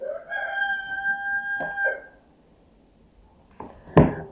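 A rooster crows once in a long, drawn-out call at moderate distance. A short quiet pause follows, then a sharp knock or clatter nearby.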